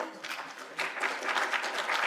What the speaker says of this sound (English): A round of applause to Yaroslav.